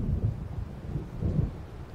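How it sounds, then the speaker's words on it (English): Low rolling thunder from a storm in the video game Alan Wake Remastered, a deep rumble swelling in two heavy pulses over a steady wash like distant rain, with no one talking. "It seems there's a storm coming."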